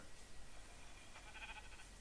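A goat bleats once in the blocky sandbox game Minecraft, a short wavering cry heard faintly over a hissy background.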